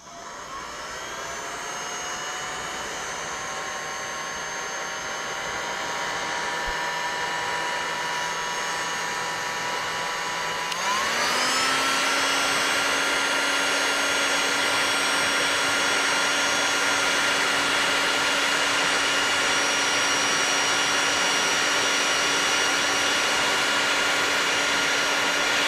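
A heat gun blows a steady, loud whine and rushing airflow over heat shrink tubing on twisted wires, its tone jumping and settling about midway as the fan speed changes, close and continuous with no talk.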